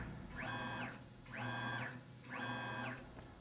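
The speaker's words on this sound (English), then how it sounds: "now that the machine has moved left and right, front to back, and up and down" A machine moves along its axes in three even whirring passes, each motor sweep rising and falling in pitch with short pauses between; quiet and close, with no talk.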